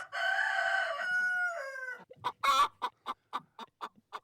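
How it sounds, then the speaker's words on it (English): A rooster lets out a long, close crow, then several chickens cluck in short, separate bursts in a school garden. No one speaks. "Critters meaning specifically chickens this time."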